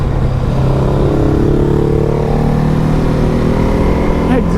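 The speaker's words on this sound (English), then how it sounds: "Exhaust note." A Ducati Multistrada V4 Pikes Peak motorcycle on a road ride gives a continuous loud engine drone, its pitch climbing smoothly as it accelerates, with wind rush and a voice partly heard over it.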